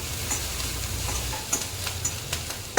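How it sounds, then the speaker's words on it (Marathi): Crushed garlic and coriander roast in a pan with a soft, steady sizzle and occasional faint stirring clicks, close by and quiet, with no one talking. "लसूण कोथिंबीर चेचून घेतलेले चांगलं भाजून घ्यायचे"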